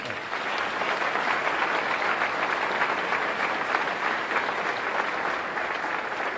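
Round of applause from the crowd at the Milwaukee State of the City address, a dense, steady roar of many hands clapping, sustained at full level and tapering slightly at the close.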